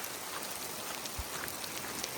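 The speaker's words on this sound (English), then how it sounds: "Let's see kind of how the rain is going over here." Rain falls steadily on a Sonoran Desert homestead, a dense, even hiss of drops with a few closer splats and one soft low thump.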